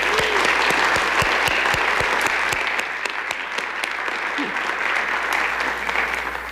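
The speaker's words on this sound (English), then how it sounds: "Let's give a round of applause to those guards." An audience applauds lifeguards at Lakewood, Colorado's State of the City event, a steady, full burst of clapping from many hands that holds for several seconds in a large room, with sharp individual claps standing out near the start.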